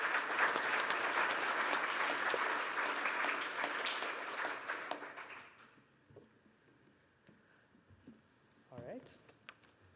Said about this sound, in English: let's give our panelists a last round of applause